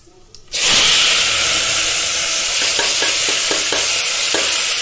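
Loud, steady sizzle as masala hits hot oil already crackling with cumin and mustard seeds, a sudden burst of hiss that holds at full strength with faint stirring clicks and pops throughout.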